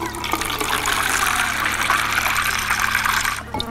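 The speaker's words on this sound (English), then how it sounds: "There's a measurement inside this cup, so I'll quickly fill that from my pack tap." Water pouring from a pack tap into a Jetboil MiniMo cup, a steady close-up gushing trickle for several seconds that tapers off at the end.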